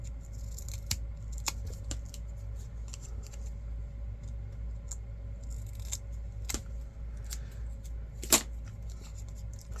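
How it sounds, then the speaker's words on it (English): Thinning shears snipping the edges of paper postage stamps, a series of short, crisp clicks and snips scattered over steady low background noise, with a louder cut near the end. "take my thinning shears and just hit those, just cut the end, the edge, not the end"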